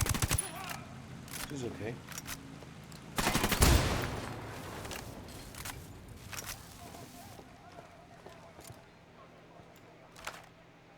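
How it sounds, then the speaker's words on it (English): Video game gunfire comes in a few scattered shots and short bursts, with the loudest flurry in the middle, set against a quiet background while a voice speaks briefly. "Se han detectado disparos."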